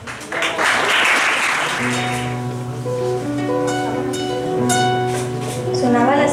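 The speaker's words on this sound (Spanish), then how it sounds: "Un aplauso para Begoña." A short round of applause at a Valentine's Day event swells for a second or so, then fades beneath sustained tonal sound that carries on to the end.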